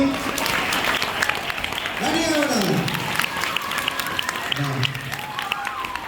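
An audience claps together at a gospel balloon show, with a dense, sustained patter of applause while a voice speaks over it.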